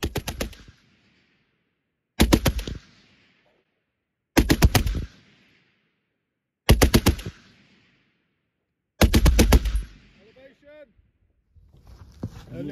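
Vickers machine gun firing five loud, close bursts, each about half a second long and separated by roughly two seconds of quiet. Faint talking follows the last burst.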